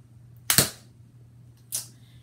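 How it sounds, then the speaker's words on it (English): Two sharp snapping shots from a Lego M416 rubber band gun, the first louder with a quick double crack, the second about a second later, close and otherwise quiet. "It's so hard to shoot. And I got my weakest rubber bands too."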